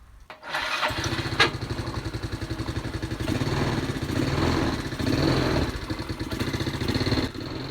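A motorcycle engine cranks on its electric starter after the starter motor's brushes were replaced, catches within a second and settles into a loud, close, steady idle with a throbbing, even pulse.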